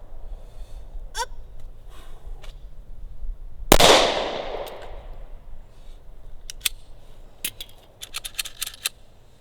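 A single sharp, loud pistol report from a Smith & Wesson Shield in .45 ACP cracks out mid-clip, followed by scattered light clicks and metallic clinks in an otherwise quiet outdoor setting.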